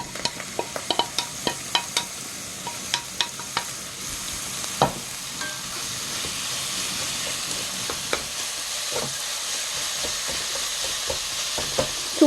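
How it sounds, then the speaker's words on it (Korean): Seasoned beef stir-fried in sesame oil for tteokguk, a steady close sizzle punctuated by regular sharp taps of utensils against the pan, thinning out toward the end. "참기름 넣고 그 다음 한번 소고기를 한번 볶아 볼게요."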